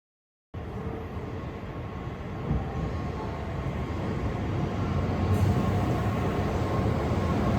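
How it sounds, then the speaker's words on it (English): A Japanese bullet train rumbles steadily close by at Odawara Station, a deep continuous roar that swells slightly louder as it runs, with no voices. "This is our bullet train to Osaka, Kyoto"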